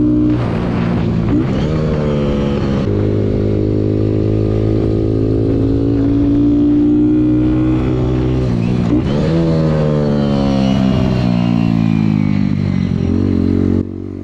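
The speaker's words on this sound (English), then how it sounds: "I just want to show you that I do hit the rev limiter." Kawasaki Z125 Pro motorcycle on a race track, its small engine loud and close, revving hard with rising and falling pitch sweeps as it climbs to the rev limiter through a turn, continuous for the whole stretch.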